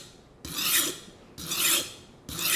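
Kitchen knife blade pushed across a sharpener, giving three long coarse rasping strokes in a steady rhythm with brief pauses between, close and fairly loud with no talk.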